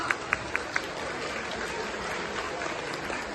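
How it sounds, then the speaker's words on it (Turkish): Applause from relatives in a crowd at a prize-drawing event, a few sharp claps standing out at the start over a steady wash of clapping that continues at moderate loudness. "Yakınlarının alkışlayan."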